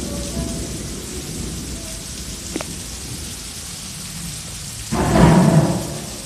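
Rain falls steadily during a lightning storm, with a brief sharp crackle midway and a loud rumbling thunderclap swelling near the end.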